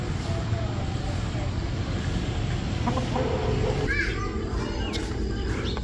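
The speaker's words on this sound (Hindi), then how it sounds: "मुर्गा और मुर्गियां यहाँ मज़े से घूम रहे हैं और कीड़े मकोड़े तलाश कर रहे हैं।" A rooster and hens cluck and call while roaming a village yard in the morning, scattered bird calls over a busy rural background with distant voices and a passing vehicle.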